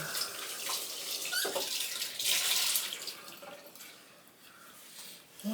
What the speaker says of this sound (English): now rinse my hands off